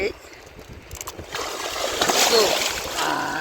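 Sea waves rush and splash nearby, a broad watery surge that builds and stays loud, with a faint voice in the background.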